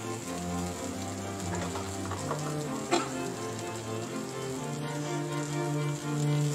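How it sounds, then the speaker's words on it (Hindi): Eggplant slices frying in a pan give a steady, close crackling sizzle like light rain, holding even throughout with a faint clink midway and no talking. "अब ये फ्राई हो जाएंगे।"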